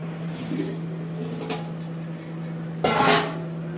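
A metal lid clatters onto a pot of chicken biryani and the gas stove is switched off, giving a couple of clanks and a louder scraping knock near the end over a steady low kitchen hum.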